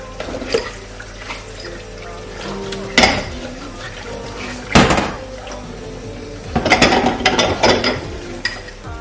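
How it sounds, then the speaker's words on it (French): Dirty plates and small white bowls being washed at a home kitchen sink, with irregular clinks and knocks of dishware and running water, bursts of clatter around three, five and seven seconds. "laver toutes mes assiettes qui sont sales et je vais aussi laver les petits bols blancs"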